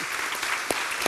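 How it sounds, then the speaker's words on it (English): Sustained audience applause after a panel discussion on the future of housing in Canada, a dense even wash of many clapping hands filling the room, with no talk over it. "So let's give them an applause."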